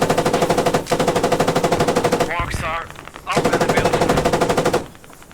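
Tank machine gun in an armoured-warfare video game firing loud, rapid continuous bursts close up, broken by a short pause where a brief voice is heard, then another long burst.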